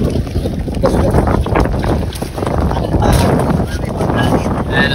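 Strong wind on a spearfishing trip in San Vicente, Palawan roars and buffets the microphone continuously, a loud rushing gust with a faint voice somewhere underneath.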